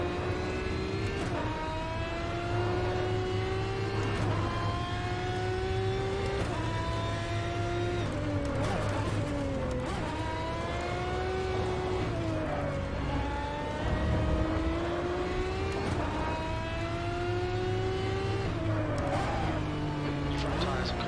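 Ferrari GT1 race car at Imola in the video game Automobilista, its engine wailing loud and continuous while it climbs through the gears and drops on each downshift, with a voice talking over it.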